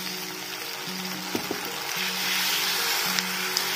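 Ginger garlic paste frying in a pan of lightly browned onions, giving a steady soft sizzle with faint hissing throughout and a few small clicks of a spoon, no voices.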